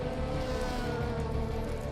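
A DTM race car engine at Hockenheim gives a loud, steady, tonal drone with strong layered harmonics, sustained without a break for about two seconds.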